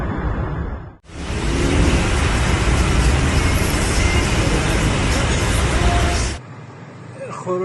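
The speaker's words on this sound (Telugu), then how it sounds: "కిలోమీటర్ల మేర ట్రాఫిక్." Heavy highway traffic on the Tehran-to-Saveh motorway makes a dense, loud, continuous roar of many vehicles for about five seconds, with quieter road noise before and after.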